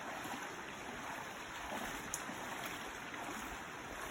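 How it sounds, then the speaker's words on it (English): Shallow creek water on the Eagle Rock Loop, crossed on foot, flowing and splashing steadily around the hiker's legs in a continuous broadband wash with no talk. "Just a little creek. That's all."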